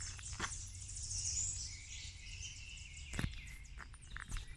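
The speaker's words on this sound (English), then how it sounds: "You just hear the birds, the frogs, whatever." Birds sing and chirp faintly outdoors on a morning hike, with thin high calls over a soft, steady background hum and a couple of brief nearby clicks.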